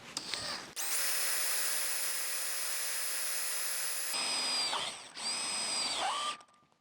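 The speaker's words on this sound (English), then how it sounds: "you just drill the hole in" A power drill whines loudly and steadily, boring a hole into a blown-up 327 engine, with two long continuous runs separated by a brief pause and a short final burst that winds down.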